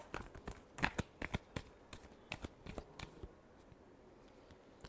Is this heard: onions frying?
no